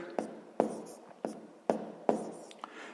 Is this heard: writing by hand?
yes